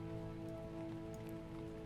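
Steady rain falls in a video game world, a dense, even patter that holds unbroken throughout with no voices over it.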